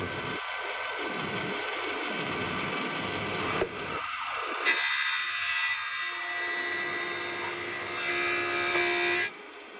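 Thicknesser planing wood while making a wooden hammer, a loud steady machine whine that swells into a bright, harsh cutting roar, then drops back to the motor's hum.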